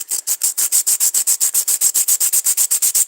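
A rock is polished by hand with sandpaper in loud, close, fast back-and-forth strokes, about seven per second, each a harsh gritty scrape in an even, unbroken rhythm.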